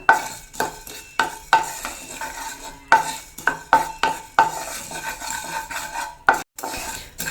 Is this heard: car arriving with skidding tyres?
no